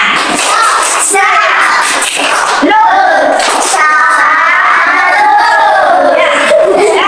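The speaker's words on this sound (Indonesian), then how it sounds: "Tepuk tangan lagi." Schoolchildren in a classroom clap in bursts alongside loud, excited voices and shouting, the rhythmic hand slaps mixed with a busy chorus of young speech.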